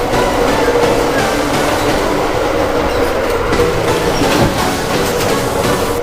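Ride aboard an Amtrak passenger train from Orlando to Miami, with a loud, steady rumble of the car rolling along the tracks, faint clickety-clack and a brief wheel squeal, heard from inside throughout.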